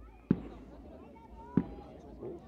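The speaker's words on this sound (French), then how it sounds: "Il y a des feux d'artifice de tous les côtés." Fireworks go off around a boat: two sharp, booming bangs about a second apart, under people talking, with a softer rumble near the end.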